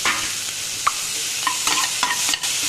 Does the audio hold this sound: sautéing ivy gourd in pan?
yes